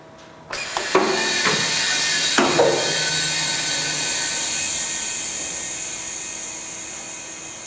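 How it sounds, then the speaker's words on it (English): Compressed air supply switched on at a machine with a dust hood and retracting cylinder: a few sharp clunks and valve clicks, then a steady loud hiss of rushing air that slowly fades. "Now we're going to go ahead and turn the air on."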